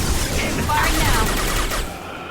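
Gunfire in Mass Effect 2 at the Normandy crash site on Horizon, heard as a loud, continuous burst of rapid shots lasting about two seconds before it eases off. A voice speaks under it.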